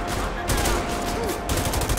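Gunfire in the GTA 5 video game, a couple of loud bursts of rapid shots over dense game background noise, with no clear speech.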